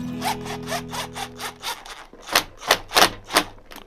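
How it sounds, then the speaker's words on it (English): Small 1-inch sheetrock screws are driven into the old wood of a century-old barn sash window, giving a series of rhythmic grinding, ratcheting bursts, close and fairly loud, with no talk. "have some little 1-inch sheetrock screws I'll put in"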